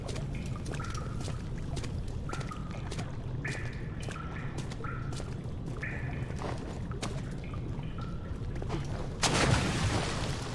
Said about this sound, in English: A loud splash in the water